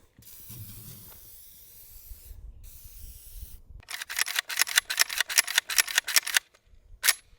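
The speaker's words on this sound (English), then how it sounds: "Let's try out a little bit of WD-40." Short bursts of WD-40 aerosol spray hit an AK-47 rifle: a few soft hisses at first, then a quick run of sharp, evenly spaced spray pulses close to the mic, ending with one last burst.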